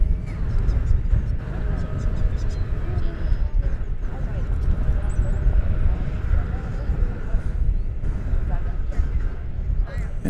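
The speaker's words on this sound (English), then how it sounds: "the Air Force One is taxiing along the southern edge of runways 18 right and left" Air Force One taxis along the edge of DFW Airport runways 18 right and left, a steady far-off jet engine rumble under continuous talk and crowd noise at a live presidential arrival.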